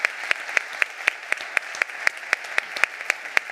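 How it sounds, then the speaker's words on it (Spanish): A theatre audience claps at a Spanish comedy stage show, the sharp claps landing in a fairly even, sparse rhythm over a steady bed of crowd noise, with no speech. "el aplauso que se lo merece"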